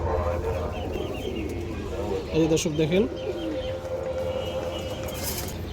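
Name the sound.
Gorra pigeons cooing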